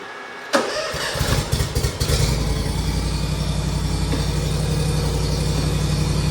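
A Hustler Super Z zero-turn mower engine cranks briefly, catches with a few uneven bursts, then settles into a steady, loud, even idle with a low rhythmic throb.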